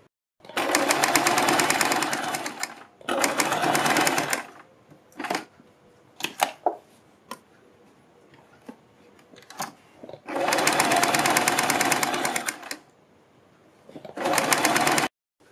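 An electric sewing machine stitching a fold along a kurti neckline, running in several fast, loud bursts of rapid needle chatter separated by quiet pauses filled with small clicks and fabric handling.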